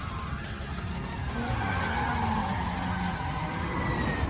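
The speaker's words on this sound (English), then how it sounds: "The 8-6 fights back with some absolutely insane late braking." An AE86 racing car braking late, tires skidding with a drawn-out squeal over engine noise, loud and sustained throughout.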